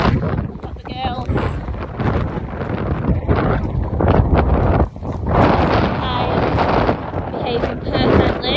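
Strong gusts buffet the microphone on a windy day out hacking horses along a road, a loud continuous roar rising and falling throughout with no clear hoofbeats standing out.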